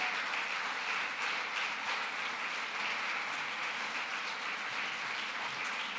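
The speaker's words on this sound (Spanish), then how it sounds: "Dele un fuerte aplauso al Rey de Gloria." A church congregation applauding during a Spanish-language worship service, a broad steady wash of clapping heard at moderate distance without a break.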